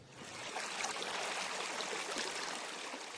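Water gushes from a groundwater pump on a farm in Goodyear, Arizona, able to throw about 3,000 gallons a minute, a loud steady broadband rush with no letup.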